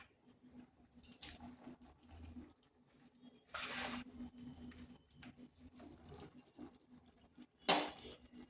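Spinach leaves go into a pot of boiled masoor lentils for a palak dal, giving soft rustling, a few light utensil clinks and brief wet patters, close and fairly quiet with no talk.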